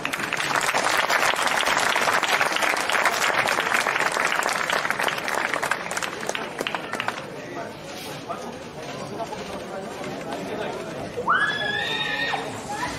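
An audience at a traditional drummers' gathering claps in dense, lively applause for about seven seconds, then it thins out into chatter and talking, with a brief high whinny-like sound near the end.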